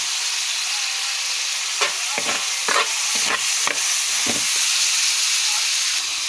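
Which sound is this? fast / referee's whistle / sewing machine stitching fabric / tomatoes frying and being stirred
tomatoes frying and being stirred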